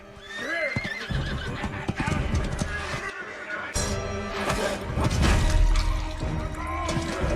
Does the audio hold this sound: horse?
yes